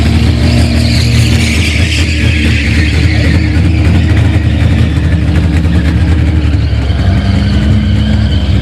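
Chevette race car fitted with a four-cylinder Opala engine, roaring loud and close on a track, revving and holding high speed with a rough, throaty drone that shifts pitch as it accelerates.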